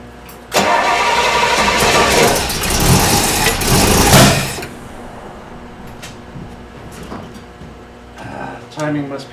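A Pontiac LeMans with a troublesome choke cranks and catches, its engine roaring loudly for several seconds before cutting out, leaving quieter rumbles and a few sputters afterward.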